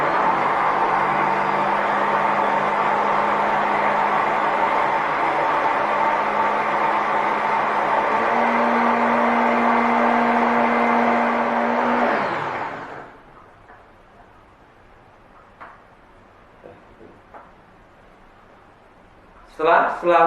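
A lab blender homogenizes a food sample at 8000 RPM with a loud, steady motor whine that rises slightly in pitch partway through, then cuts off and winds down. Faint clicks and handling sounds follow in the quiet.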